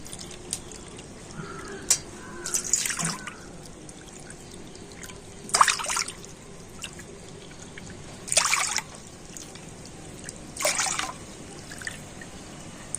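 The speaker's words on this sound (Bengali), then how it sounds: "আর এবার আমি কড়াতে আবারও দিয়ে দেবো জল" Water is poured by the bowlful into a wok in a home kitchen while making raw mango papad; four or five short splashing pours come at intervals, faint and close, with quiet pauses between them.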